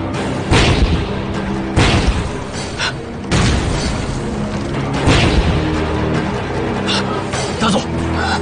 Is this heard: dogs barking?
no